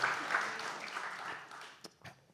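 An audience at a talk on love and disability gives a round of applause, a soft, dense patter that fades over a couple of seconds and ends with a few scattered claps.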